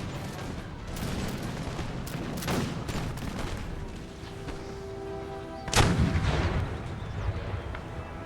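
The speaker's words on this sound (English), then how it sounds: "I gave them the new order to fire at will." An infantry line in an American Revolution battle video game fires volleys at will, with loud booming gunshots scattered raggedly across the clip and one heavy blast standing out near the end, with no talk.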